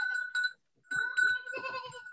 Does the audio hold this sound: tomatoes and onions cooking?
no